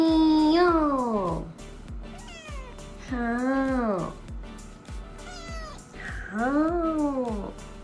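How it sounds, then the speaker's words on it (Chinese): A three-month-old kitten meows repeatedly, giving four drawn-out, rising-and-falling cries spaced a second or two apart, close and fairly loud. "谁谁家的小猫咪想要吃罐罐？"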